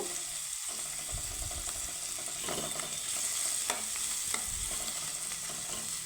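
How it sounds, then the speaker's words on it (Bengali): Shrimp frying in a pan for a watermelon rind curry, a steady close sizzle with occasional scraping stir strokes and no voices. "চিংড়ি মাছগুলো আমি একটু লাল লাল করে ভেজে নেব"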